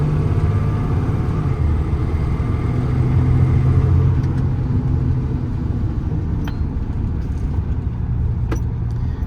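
A 2021 Kenworth T270 medium-duty truck with a PX9 engine drives along, its steady low engine rumble and road noise loud and close, with occasional light rattles and clicks over the top.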